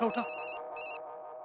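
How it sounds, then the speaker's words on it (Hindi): A mobile phone rings with an incoming call, a bright electronic ringtone in two bursts with a short gap, loud and close, with a voice briefly at the start. "उसका फोन आ रहा है। उठा।"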